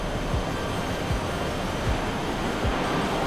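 A massive waterfall on the west coast roars after heavy rain, a dense, steady broadband rush that fills the scene without letup.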